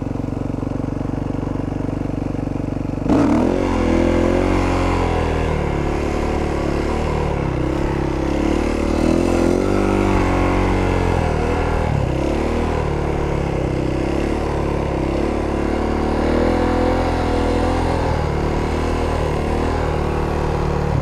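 A motorcycle idles, then its engine revs hard in first gear during a wheelie, a loud, close, sustained roar that rises and falls with throttle changes, with no speech.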